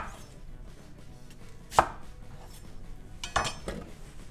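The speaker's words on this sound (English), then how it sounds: "we cut a couple of onions in squares like this" A knife cuts onions into squares on a board, two distinct sharp chopping knocks with faint clinks between them in a quiet kitchen.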